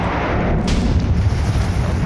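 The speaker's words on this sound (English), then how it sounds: "Massive. Massive explosions." A Minecraft explosion in the FTB Infamy mod pack sounds as a loud, booming blast with a sharp crack at the start and then a rumbling tail that fills the short span.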